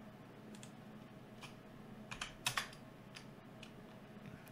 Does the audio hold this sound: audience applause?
no